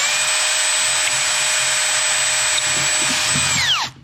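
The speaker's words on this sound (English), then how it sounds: "I'll pre-drill that a little bit" A power drill pre-drills a hole about three quarters of an inch deep into a wooden dowel, a steady high whine running close and loud for nearly four seconds before winding down as the trigger releases.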